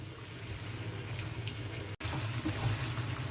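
Water is poured into a pan of potatoes and pointed gourd, a steady close splashing stream broken by one short gap before it continues.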